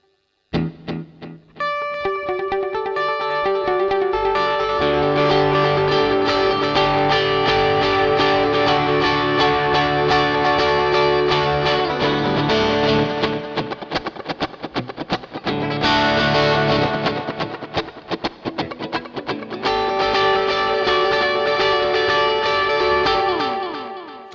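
Electric guitar played through a Tech 21 RK5 Richie Kotzen Flyrig with delay engaged, volume and tone full, sustained chords and notes ringing with repeating echoes for about twenty seconds, loud and continuous, with no talking.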